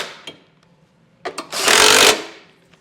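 A 17 mm socket snugs down the bolts of a trailer hitch receiver on a 2023 Subaru Legacy, giving a few short clicks and then a loud, rattling mechanical burst of about half a second, close by.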